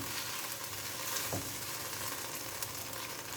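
Gros pois curry sizzles steadily in a pan while being stirred, a continuous close frying hiss with a faint scrape from the spoon partway through.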